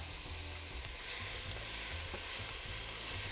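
Oil sizzles in a pot while beef ribs fry for Colombian sancocho, a constant close crackling hiss with stirring clatter and low bubbling underneath, no voices.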